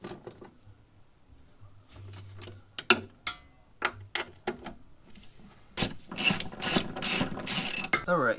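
Ratchet wrench loosening coilover mounting bolts on an Audi B5 S4, a run of separate clicking bursts that build into rapid, loud ratcheting toward the end, close up with no talk.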